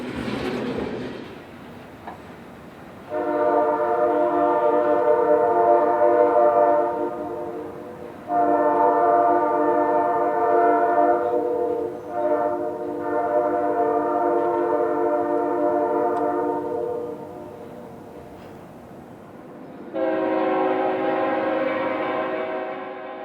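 A GE Dash 8 locomotive of the Chicago Fort Wayne and Eastern rolls by on a frigid January Sunday, its K5H horn blaring in several long, loud chords separated by short gaps, ending with a final blast.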